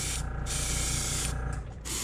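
An airbrush sprays paint onto a yellow perch fishing lure with a steady, loud hiss that cuts off briefly twice as the trigger is released and pressed again.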